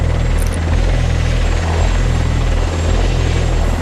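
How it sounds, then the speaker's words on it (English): An Apache attack helicopter overhead in a military operation in Afghanistan, its loud, steady rotor thump and engine whine filling the air continuously without any voices. "An Apache attack helicopter arrives."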